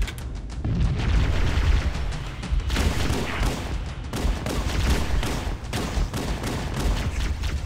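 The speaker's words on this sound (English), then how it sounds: "It's got that rapid fire plasma pistol, baby." A rapid-fire plasma pistol from the Halo video game fires in dense, loud bursts, with booming impacts and gunfire-like crackle running continuously with no pauses.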